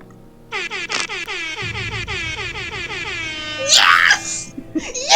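A voice imitates an air horn with the mouth, blaring a string of short, loud, pitched honks in a steady rhythm, followed by a louder, harsher burst near the end.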